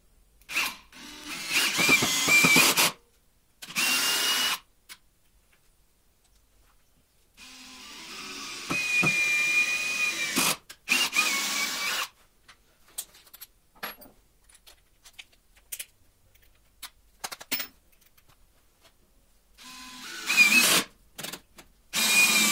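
A DeWalt DCD7771 brushless cordless drill drives screws into solid wood in short, loud whirring bursts separated by pauses, each run rising and stopping abruptly, with small handling clatter between.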